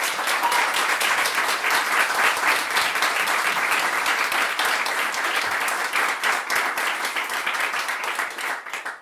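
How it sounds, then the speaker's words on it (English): Listeners at a literary conversation event give the musicians a hearty round of applause. The clapping is loud, close and crisp, with individual claps audible, and it carries on steadily for about nine seconds before tapering off. "I think it's only right we get these fantastic musicians a good round of applause"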